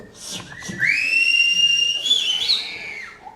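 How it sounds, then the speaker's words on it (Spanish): A clear, close whistle: a few short notes, then a long sustained rising-and-falling tone lasting about two seconds, with no talk. "¿Quién sabe silbar?"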